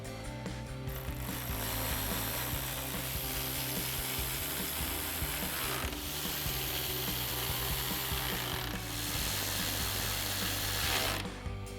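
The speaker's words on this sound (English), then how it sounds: "tighten down those 4 bolts at the top using our 10mm socket" A ratchet with a 10mm socket tightening four top bolts while fitting LED projector headlights on a 2018-2020 Ford F-150, a continuous close mechanical whirring and clicking with brief pauses, no voices.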